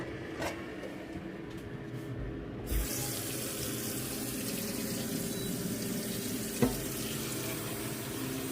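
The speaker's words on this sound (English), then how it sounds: "Let's put some water on this table." Water runs steadily from a kitchen tap onto a table surface in a home kitchen where blackberry hot sauce is being made, a continuous close hiss with a brief clunk near the start and a soft knock later on, with no talk.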